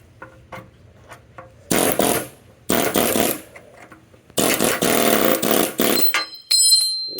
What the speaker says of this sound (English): You take something on the end of your impact hammer and just go in there, and you're just going to drive the sleeve out.